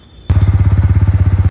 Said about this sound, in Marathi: आता चाललोय बाईक राईड करत करत